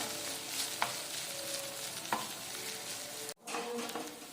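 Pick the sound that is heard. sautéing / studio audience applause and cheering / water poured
sautéing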